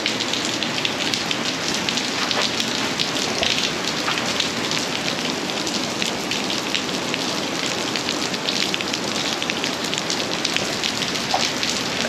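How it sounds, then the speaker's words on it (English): Steady rain pours down around an airport hangar, a dense, even hiss of drops hitting hard surfaces that continues without break, fairly loud and close, with no voices. "There's the rain."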